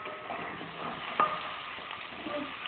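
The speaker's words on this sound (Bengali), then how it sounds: "দিয়ে দিচ্ছি তেজপাতা আর জিরে ফোড়ন, একটু নেড়ে নিচ্ছি" Bay leaves and cumin seeds frying in hot oil for a mutton and potato curry, a steady soft sizzle with a small clink of stirring.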